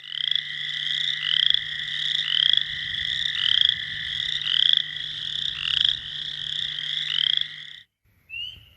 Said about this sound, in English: This year we have spring peepers first.